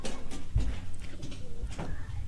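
Domestic pigeons in a bamboo-framed loft on a backyard farm coo in low, soft, throaty pulses, several close calls overlapping with steady background noise and no talking.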